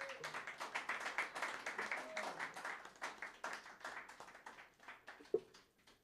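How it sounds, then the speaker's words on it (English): Faint, scattered clapping from a small group, distant and uneven, with one sharper clap near the end. "Can we give him a round of applause,"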